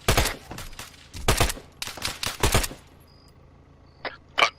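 Gunfire in a military shooter video game mission, with bursts of sharp shots in clusters through the first three seconds, then quieter with a couple of isolated cracks near the end.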